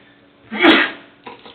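A single sharp human sneeze bursts out in a meeting room, loud and close, followed by a faint short breath or murmur.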